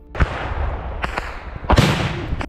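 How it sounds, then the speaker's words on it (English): Explosions erupt near a retreating Russian military convoy in a wooded area, three loud booming blasts spaced about a second apart with rumbling echoes between them. "As they enter the wooded area, yet another explosion erupts, and the remaining convoy disappears into the chaos."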